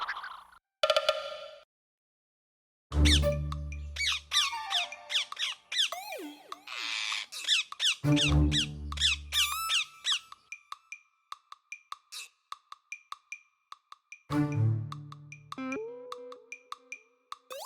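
Parrots in a Marathi cartoon squawk and chirp in bright, quick bursts, some rising and falling, in several clusters separated by short pauses, with no talking.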